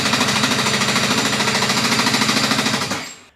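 A go-kart engine fires in a rapid, loud hammering burst after the choke is used, then sputters out and dies within a few seconds instead of catching.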